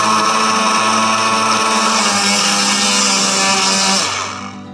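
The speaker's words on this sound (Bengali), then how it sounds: "পাঁচ থেকে 6 বার ব্লেন্ড করব।" A kitchen blender whirs as it blends strawberry punch with half a glass of cold water, a loud steady motor drone for several seconds before winding down at the end.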